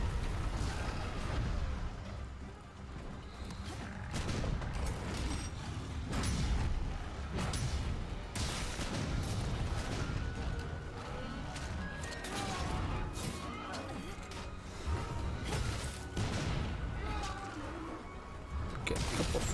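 Explosions from shots fired into a wall in the video game Monster Hunter World, a dense run of loud blasts and crashing impacts that overlap continuously with no quiet gaps.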